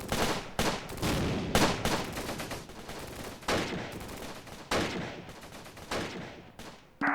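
Gunfire in the World War II tactics video game Close Combat: repeated bursts of rifle and machine-gun fire, dense and rattling, coming in waves with brief gaps, moderately distant and loud, no voices.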